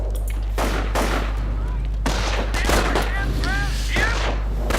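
Repeated gunfire from a World War II battle in the real-time strategy game Company of Heroes: bursts of shots and distant booms over a steady low rumble, with fading whistles.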